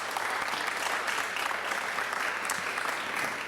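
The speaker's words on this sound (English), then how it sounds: "Please join me in giving the panel a round of applause." Steady applause from a conference audience for a panel discussion, an even, dense patter of clapping heard alone at moderate volume across the whole short stretch.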